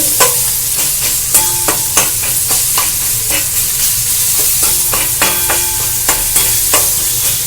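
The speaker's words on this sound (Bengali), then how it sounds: "এবার আমরা খুন্তি দিয়ে একটু ম্যাশ করে দেবো ক্যাপসিকামটাকে হালকাভাবে।" Capsicum frying in a pan is pressed and mashed with a spatula, giving a steady sizzle punctuated by repeated sharp scraping taps of the metal against the pan, with no talking.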